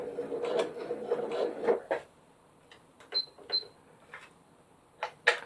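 A sewing machine starts stitching a turned-out zipper pouch: a close, busy mechanical whir runs for about two seconds, then settles into sparse clicks and a couple of short metallic tings.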